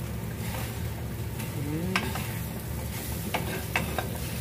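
An okra omelette frying in oil in a pan, a steady close sizzle with occasional light scrapes and taps of a utensil.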